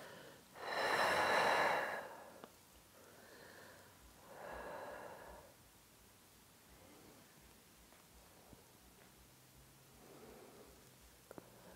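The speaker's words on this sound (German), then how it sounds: "Ausatmen." A long, loud exhale during a yoga session, followed by softer breaths spaced a few seconds apart, close and quiet, with no talking.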